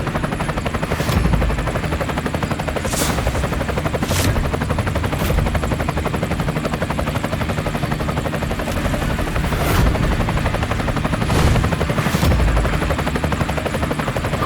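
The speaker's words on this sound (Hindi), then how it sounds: "अरे ये तो करोड़ों का हेलीकॉप्टर है," A costly private helicopter rumbles steadily throughout, loud and close, its rotor churning with periodic sharp transients layered over the sustained drone. No one speaks.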